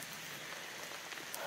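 Steady rain falling during a misty solo backpacking trip at Jerry Lake, a continuous even hiss of drops on surfaces with a few slightly louder patters near the end, no voices.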